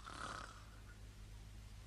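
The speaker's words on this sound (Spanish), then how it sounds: "¡Cómo ronca!" A tired man asleep in an animated story snores once, a rasping intake that fades into a soft, steady breathy hum, close and alone without speech.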